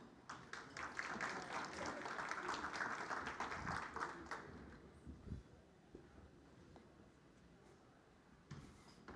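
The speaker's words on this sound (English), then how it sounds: "Give him a round of applause." A conference audience at a customer experience summit gives a round of applause, dense and lively clapping for the first few seconds that thins and fades into a quiet room with a few scattered claps near the end.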